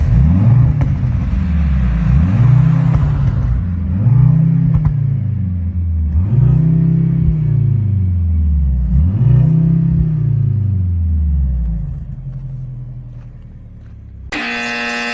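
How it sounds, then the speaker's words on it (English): A Mercedes-AMG C63 W206 with a 2-liter turbocharged inline-4 revs repeatedly, five rising-and-falling rev swells in a steady rhythm, close and loud, before settling to a lower idle. "take a listen to the stupid 2-liter turbo inline 4"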